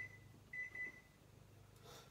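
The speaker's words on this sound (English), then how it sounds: "Set this timer on 5 minutes." A kitchen timer gives a few short, quiet electronic beeps as it is set to five minutes while shrimp are being cooked, over a low background hum.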